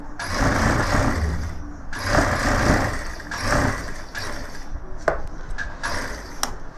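Sewing machine running double stitching on a gents' suit seam, close bursts of rapid mechanical whirring and clatter separated by brief pauses and a few sharp clicks.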